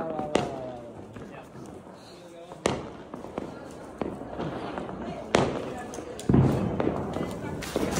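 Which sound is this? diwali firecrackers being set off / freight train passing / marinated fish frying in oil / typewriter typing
diwali firecrackers being set off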